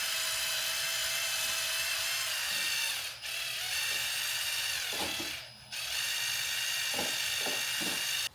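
A 1996 Acura Integra headlight is wet sanded with sandpaper and water, giving a continuous faint gritty scraping texture with short rhythmic strokes and brief dips.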